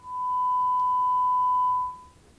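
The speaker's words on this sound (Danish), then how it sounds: "så kan vi høre, at vi spiller den her tone på 1000 Hz" A steady 1000 Hz sine tone from a tone generator holds for about two seconds, loud and alone, then cuts off, leaving faint room hiss.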